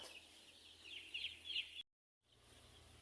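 A chicken clucks in short bursts up close during outdoor farm work, the calls rising over low background rumble before an abrupt cut to silence and a quieter resumption of ambient noise.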